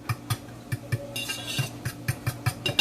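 Metal utensil scraping and clinking in a pan while mixing dropped food into a sausage and egg mixture, a steady run of sharp taps and scrapes at close range.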